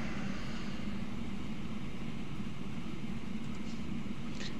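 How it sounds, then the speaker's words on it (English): A rock and rubble freight train runs through a railway game's European tunneling mission, giving a steady, continuous low rumble with a faint hiss, with no voices. "here comes our rock and rubble train"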